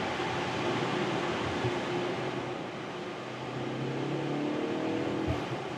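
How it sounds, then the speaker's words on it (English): A BMW M135i's exhaust note drones low and steady through an open window, nearly buried under a constant hiss of heavy rain. "I think the exhaust here, the note that's transported to the interior is actually quite cool"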